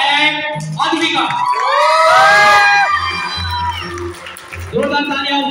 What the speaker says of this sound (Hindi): जोरदार तालियां हो गई बच्चों के लिए।